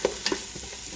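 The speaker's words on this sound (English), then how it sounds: "I'm going to give that a quick stir." Spoon stirring potatoes and zucchini in a pot of Manhattan clam chowder, a few close scraping strokes over a light steady simmer, with no talking.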